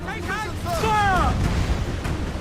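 Ship's cannons boom during a naval battle in Assassin's Creed IV Black Flag, with heavy low blasts rolling under the shouting voices of the crew.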